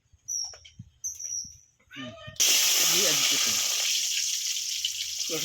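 Oil heating in a pot on the stove for cooking chickpeas, a steady sizzling hiss that starts suddenly and holds for several seconds, with someone talking before it and faintly underneath.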